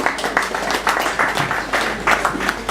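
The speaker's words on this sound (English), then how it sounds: "Another round of applause for Professor Luke." An audience applauds a professor after a talk at an academic forum on violence and conflict, a brief burst of scattered, uneven clapping heard close by.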